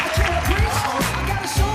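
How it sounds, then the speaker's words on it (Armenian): Applause rises from guests at a 60th birthday celebration. Loud clapping runs under talking and voices throughout the short stretch. "Շնորհակալ եմ ծափահարությունների համար"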